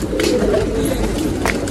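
Kilkha pigeon cooing close by in a short, loud burst of low throaty coos, alone, set against steady background noise.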